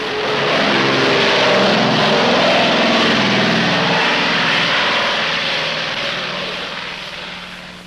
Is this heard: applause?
no